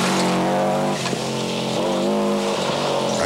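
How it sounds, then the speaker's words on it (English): Subaru rally car with a flat-six engine passing at a 1996 stage rally, loud and close with a steady high engine note, changing pitch as it goes by, alone with no talk. "Those lovely flat 6 noises"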